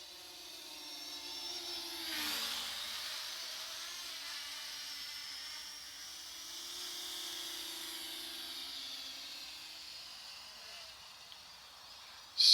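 Parrot ANAFI drone flies after a waterproof test, its propellers giving a steady high whine and hum that rises and dips in pitch for about twelve seconds, moderately close, with no talk over it.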